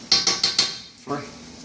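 A spoon scrapes and clanks against a pot of chuckwagon beans in four quick, close strokes, then one softer scrape after a short pause.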